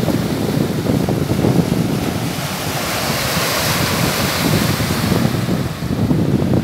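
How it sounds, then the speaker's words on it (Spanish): Ocean waves crash along the Veracruz coast at Boca del Río, a broad continuous roar of surf with rolling surges, mixed with gusty wind buffeting the microphone; no voices. "Escuchen cómo chocan las olas."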